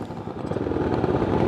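A custom 600cc enduro motorcycle built from a dirt bike and a sport bike, its dirt bike engine running with a steady, rough, close rumble and no voices.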